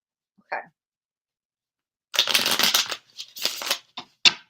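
A deck of tarot cards being shuffled, with several short papery bursts in a quiet room: one brief riffle, then a longer run of rustling and a few quick flutters.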